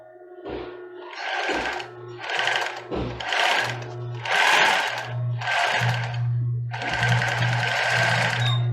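A sewing machine stitches a small zigzag finishing stitch on a child's bra, running in six or seven close, loud bursts separated by brief pauses, with a steady motor hum under each run.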